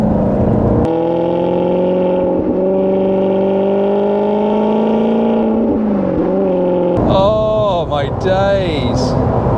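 A Maserati Quattroporte Sport GTS sedan with a Ferrari-built V8 drones steadily at cruise, then blips and revs through quick rising and falling swells, heard loudly from inside the car.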